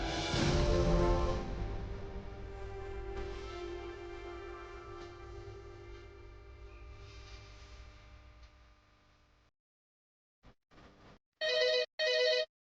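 A sustained musical tone slowly fades to silence, then a telephone rings in two loud, close bursts as a caller phones in to a TV call-in show.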